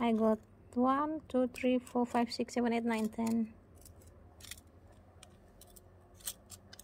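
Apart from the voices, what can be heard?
cutting heads off Letizia succulents with scissors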